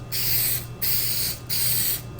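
A steady hiss of spray in three long bursts separated by short pauses, with a low hum underneath.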